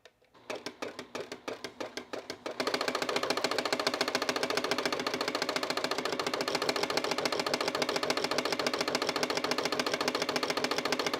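Sewing machine fitted with an EB-1 buttonhole attachment and a size 16 needle stitching a buttonhole, starting with a few slow separate stitches before settling into a steady, rapid mechanical rhythm, close up and alone.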